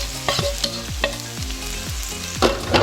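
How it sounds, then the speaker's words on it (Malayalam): Canned tuna frying with sautéed onions in a pan, a steady loud sizzle broken by repeated scraping stirs with a utensil at a regular pace, close up. "ഞാനിപ്പം ടൂണ ഇതിലേക്ക് ആഡ് ചെയ്ത് കൊടുക്കുകയാണ്."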